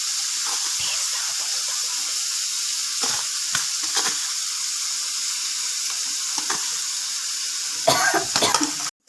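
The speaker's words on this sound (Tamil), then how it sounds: "ஆனியனும் நல்லா வதங்கட்டும்." Onions sautéing in oil on an uthappam tawa give off a steady, close sizzle that runs the whole way through, broken by a few soft stirring scrapes and a louder crackle near the end.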